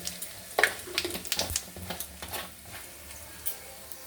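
Whole black peppercorns, crushed cardamom and cumin seeds sizzle and crackle in hot oil in a pan after paneer has been fried, with a few sharp spits and stirring clatters up close, no talk over them.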